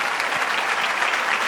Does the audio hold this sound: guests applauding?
yes